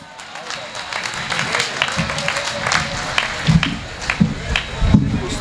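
An audience at a Hindi poetry gathering claps to welcome poet Yashpal Yas, the sharp hand claps swelling and growing louder toward the end, with voices mixed in.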